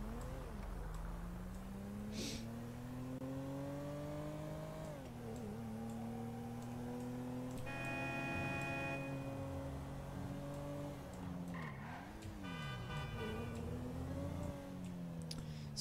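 A video game car driving on a GTA V FiveM server, its engine droning steadily and swinging up and down in pitch as it revs and shifts, continuous and fairly loud with no talking.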